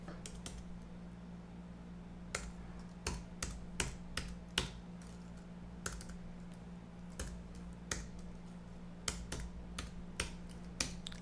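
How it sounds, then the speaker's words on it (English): Light, irregular keystrokes as a credit card number is typed on a computer keyboard, quiet and close, with soft clicks spaced through a low steady hum and no speech. "I'm going to enter my credit card number"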